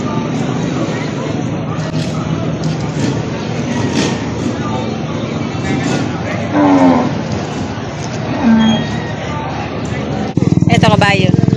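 Cattle mooing at the Padre Garcia livestock auction, several loud, drawn-out lows rising from a dense crowd murmur, with people talking nearby throughout.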